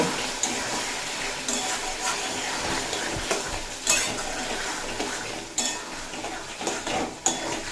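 Bottle gourd cooked with ground spice paste in a pan, with steady scraping and clinking of a spatula as it stirs and fries over a continuous low sizzle, close and moderately loud, no talk.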